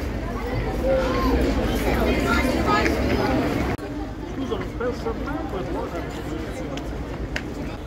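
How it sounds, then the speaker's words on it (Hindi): Tourists crowd the narrow canal-side streets of Venice, Italy at the height of the tourist season, a steady murmur of many overlapping voices and footsteps close around, continuous throughout. "ये देखिए दोस्तों कितनी भीड़ है यहाँ।"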